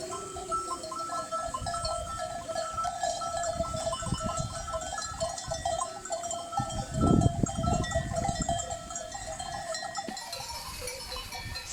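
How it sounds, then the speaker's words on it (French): A flock of ewes moving with their shepherd, sheep bleating at close to middle distance over a steady outdoor bed of sound, with one louder burst of bleating partway through. "il était un troupeau de brebis et son berger"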